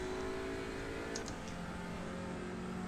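A car engine in a driving video game, revving and droning steadily at a high pitch, loud and continuous with a brief gear-shift break midway, no talk over it.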